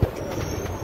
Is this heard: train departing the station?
yes